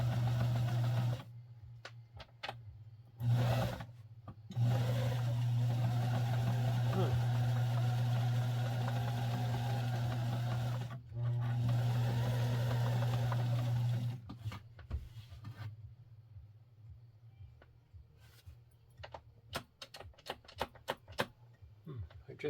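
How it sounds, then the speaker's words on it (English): A Penncrest 3400 sewing machine winds a bobbin at low speed, giving a steady humming whir in long runs broken by brief pauses, then stopping. A person speaks near the end. "Then the hand wheel can spin and wind your bobbin without making the rest of the machine cycle."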